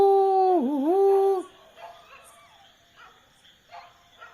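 A long, wavering dog howl rings out loudly for over a second near a cemetery at night, followed by fainter distant yips and barks in the darkness.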